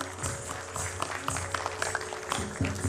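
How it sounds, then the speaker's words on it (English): A crowd applauding an artist at a live music event, a dense, steady clatter of clapping from a room full of people, moderately loud throughout. "Round of applause"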